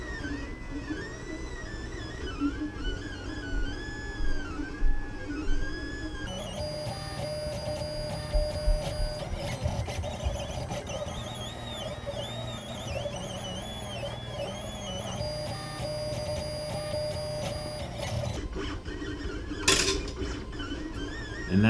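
Whirring, stepping motor tones from a LulzBot Mini 3D printer extruder feeding filament, with small mechanical clicks and creaks running continuously, shifting pitch as the gear drives back and forth, close and moderately quiet.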